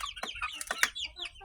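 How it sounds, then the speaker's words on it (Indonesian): Young broiler chickens nearly three months old, fed BR1 feed, cluck in short, overlapping calls at close range, with several birds sounding over a low background hum. "Nah ini juga ini anak ayam juga ya, yang umur hampir 3 bulan."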